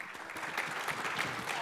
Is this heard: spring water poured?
no